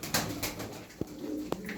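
Hünkari pigeons coo softly at a coop, with a few low, muffled coos and faint rustling, quiet and close.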